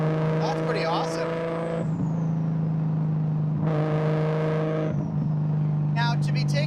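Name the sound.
Lexus IS300 being driven hard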